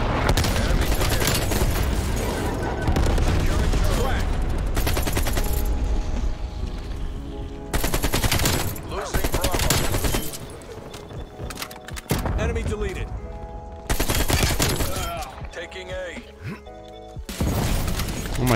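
Rapid AK-47 bursts in Black Ops Cold War, the Iron Curtain variant, crack loud and close in repeated volleys with booming impacts, broken by short pauses, while a player talks over the firing.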